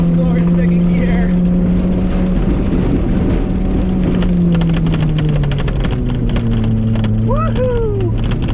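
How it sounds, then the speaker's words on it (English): A Mazda Miata driving off-road with the accelerator floored in second gear, its engine a loud, close, sustained drone whose pitch shifts, with gravel and debris rattling and a voice breaking in near the end. "Foot to the floor in second gear."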